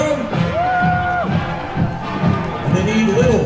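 A crowd lines the street at a downtown holiday parade in Mount Vernon, cheering for passing high school cheerleaders, a steady loud roar of shouts and whoops with a voice rising above it.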